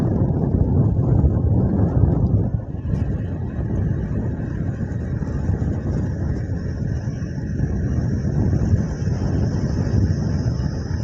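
A motorbike cruises along a highway toward Panagarh, with a constant engine drone heavily buffeted by loud wind roar across the microphone throughout.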